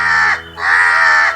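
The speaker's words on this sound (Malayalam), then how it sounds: "ഓണമായിട്ട് കാക്ക വിരുന്ന് വിളിക്കുന്നുണ്ട്" Two loud, harsh crow caws close by, separated by a short pause, with no talk over them, heard at a rural home during Onam.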